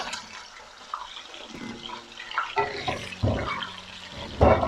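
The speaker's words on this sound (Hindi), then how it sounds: "उसमें सबसे पहले मैंने चिकन डाल देना है अपना" Korma-cut chicken pieces dropped into hot oil with browned onions, giving a close, steady sizzle and hiss that swells with several louder spits and crackles toward the end.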